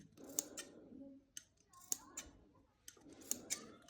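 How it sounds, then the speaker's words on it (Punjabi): Sharp scissors snipping small notches into the extra neck margin fabric of a kurti, heard as three close clusters of crisp metallic cuts separated by brief pauses, with a faint murmur of room sound. "ਇਹਦੇ ਵਿੱਚ ਨਾ ਆਪਾਂ ਛੋਟੇ ਛੋਟੇ ਕੱਟ ਲਗਾ ਲੈਣੇ ਨੇ"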